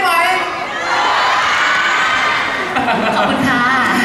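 A crowd at a campaign launch event shouts and cheers loudly and continuously, with excited high voices and whoops filling the space throughout.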